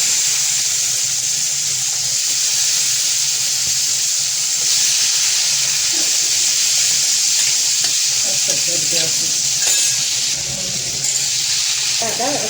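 Peas and potatoes with garam masala, coriander powder and turmeric fry in a pan, making a loud, continuous sizzle with occasional stirring scrapes and a voice talking over it.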